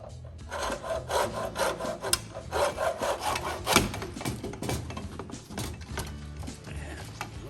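Old hardened rubber hose being cut off a 1930 Ford Model A engine, with steady rasping, sawing strokes of a blade through the stiff rubber, close and fairly loud, with no talk.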